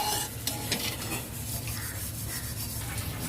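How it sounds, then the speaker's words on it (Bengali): Prawn curry gravy bubbling in a pan, heard as a close, steady hiss with soft stirring and light pan scrapes throughout. "ও গ্রেভিটা ফুটে গেছে"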